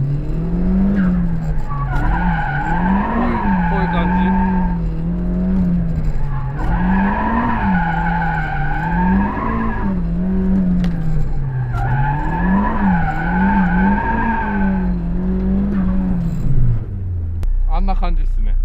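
A Nissan Silvia S15 drifts through side-turn practice, its tires squealing in three long wavering bursts over a low engine rumble, loud and close, before dropping away at the end.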